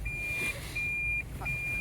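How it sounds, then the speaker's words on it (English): A vehicle's reversing warning sounds as three long, steady electronic beeps with short gaps between them, clear and close over a low engine idle. "You can go to reverse and give it like a beep beep."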